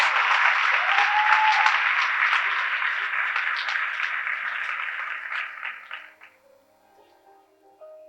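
Audience applause at a school senior project ceremony, a steady crowd clapping that thins and fades out over about six seconds, leaving near silence.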